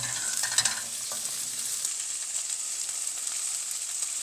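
Onions for sambar sizzle loudly in hot oil with curry leaves and green chillies, with a few scraping stirs near the start before the frying settles into a steady hiss.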